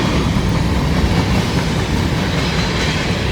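A train rolling past on the tracks on a cold night, with a steady, loud, continuous rumble and rhythmic clickety-clack of railcar wheels running without a break.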